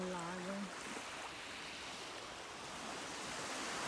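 Calm sea at Levanto at sunset, a soft steady wash of gentle surf filling the air, with a brief tonal sound at the very start.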